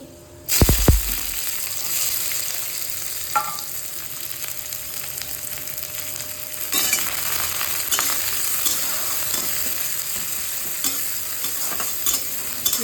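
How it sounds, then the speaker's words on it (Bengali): Chopped onion tips into hot tempered oil for an ash gourd curry, a brief loud thump followed by a steady close sizzle with occasional stirring scrapes, no voices. "এখন পেঁয়াজ কুচি দিয়ে দেবো"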